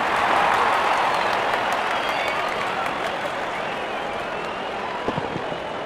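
Cricket crowd in a cartoon match cheers and applauds steadily, a dense broad wash of clapping and crowd noise that stays loud throughout and eases slightly toward the end.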